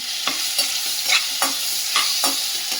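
Chopped onion pieces fry in a hot pan while a spoon stirs them, with a constant sizzle broken by about half a dozen rhythmic scraping strokes, loud and close with no voices.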